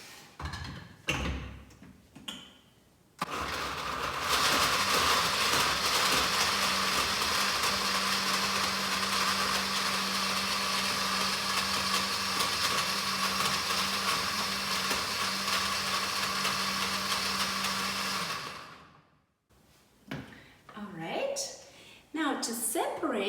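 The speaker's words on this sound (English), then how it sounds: "Now we have to blend it." Blender whirring as it blends soaked almonds with water for almond milk, a loud steady motor roar lasting about fifteen seconds, with brief handling clatter and a voice before and after.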